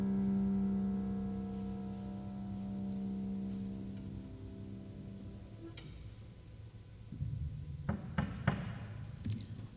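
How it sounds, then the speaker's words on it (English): Knocking on a door sounds as a few sharp, separate raps near the end, following a long stretch of low sustained tones. "The captain knocked on a door."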